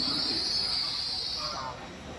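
A Class 331 passenger train pulls out of Doncaster station at night on a stopping service, giving a distant, steady rumble with a faint hiss above it that tapers off toward the end.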